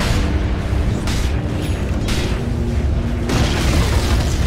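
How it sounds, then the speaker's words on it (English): Deep booming impacts and rumbling blasts as a tower is destroyed in the Dota 2 strategy game, loud and sustained with several heavy surges layered over continuous battle noise. "Radiant's bottom tower has fallen."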